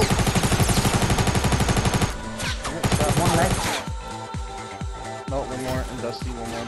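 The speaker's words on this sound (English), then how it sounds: "He's shooting me in the back and in the front." Gunfire in the video game Fortnite, rapid machine-gun bursts repeating in a steady rhythm, then scattered loud single shots and impacts, close and dense, with players talking over the action.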